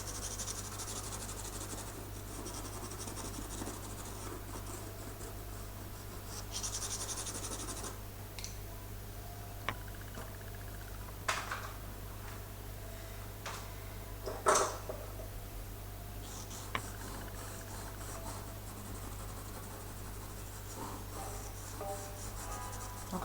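Soft, continuous scratchy rubbing of colored pencil shading a sphere on paper, close and quiet, with a few faint taps and clicks over a low steady hum.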